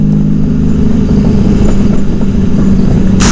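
A big motorcycle engine runs at a steady, loud, close drone with a deep, even rumble and no audible voices.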